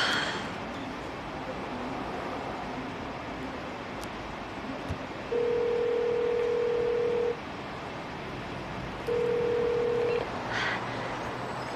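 Telephone tone while calling someone, two long steady beeps separated by a pause of a couple of seconds over a quiet background hiss.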